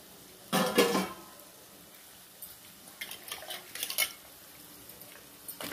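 Pieces of pendalam (yam) drop into a cooking pot with a burst of rustling clatter and sizzle, followed by lighter scraping and stirring knocks against the pot, all fairly close.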